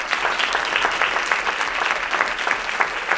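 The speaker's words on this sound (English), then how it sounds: "give them a round of applause" A room full of people claps steadily, a dense and loud round of applause with no talking over it, at a school spring vocal concert.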